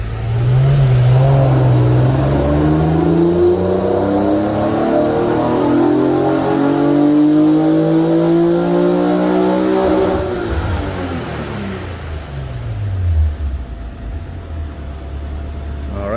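A car engine with octane booster in the fuel revs hard on a dynamometer during a pull, loud and close, with a steady rising roar that climbs in pitch for about ten seconds, then drops off and winds down to idle.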